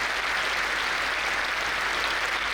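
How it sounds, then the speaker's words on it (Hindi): An audience at a Jain religious gathering in Bangalore claps continuously, a dense, even wash of many hands applauding without a break. "तो उसके लिए नॉन जैन लोग ताली बजा रहे हैं"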